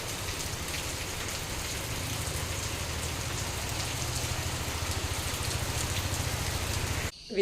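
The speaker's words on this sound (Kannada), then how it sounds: "ಇವಾಗ ಮತ್ತೆ ಜೋರಾಯಿತು ಮಳೆ" Heavy rain pours down in a steady, dense roar of drops on surfaces, continuous and loud until it cuts off abruptly at the end.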